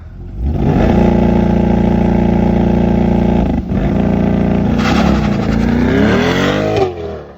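A new mid-engine Chevrolet C8 Corvette, in orange and out on a track day, revs hard at full throttle. The loud, sustained engine roar holds steady for several seconds, dips briefly, then rises again with a climbing pitch as the car accelerates.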